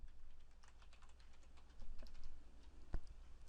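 Someone types a password on a computer keyboard, producing a quick, soft run of key clicks over a low hum, ending in one sharper key press.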